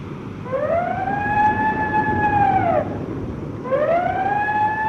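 A ship's siren from a crippled WWII tanker sounds with a wailing, rising-and-falling tone, one long blast followed by the start of another, loud over rumbling background noise.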